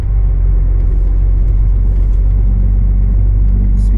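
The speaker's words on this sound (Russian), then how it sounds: "Завожу машину, нагрузку по осям" A loaded truck's engine idles steadily with a deep, constant low rumble throughout, close and loud, with no voices.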